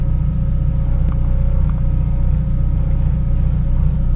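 A Honda Civic with an H2B engine idles steadily during chip tuning, running slightly lean, a close, even low rumble with a faint whine, no voices over it.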